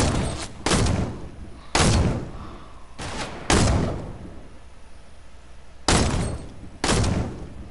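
Gunfire in the video game Fortnite: loud, sharp shots ring out in irregular bursts, some spaced about a second apart and others farther apart, each with a short decaying tail.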